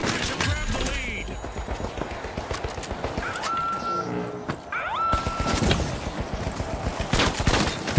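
Turret gunfire in The Finals video game crackles through a dense, chaotic firefight, a rapid stream of shots under excited voiceover commentary, with other game effects and bursts mixed in.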